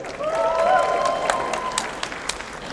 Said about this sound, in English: Round of applause for Kini Kini